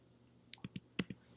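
Typing on a computer keyboard while entering a Matlab script: a handful of soft, close key clicks at irregular intervals over a quiet background, with no speech.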